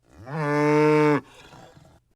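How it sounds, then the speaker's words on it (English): A dairy cow gives a single long, full-throated moo that swells, holds steady and stops sharply, heard close and alone. "Jack and his mother were very poor, and their only way to make a living was by selling milk from their dairy cow, Bessie."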